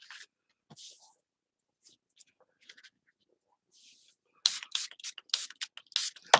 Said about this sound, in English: This is alcohol sprayed after.